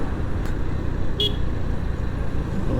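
Busy road traffic on the way from Cagayan de Oro to Sagpulon Falls in Jasaan, Misamis Oriental: a steady rumble of many vehicles with two short horn toots, no talk.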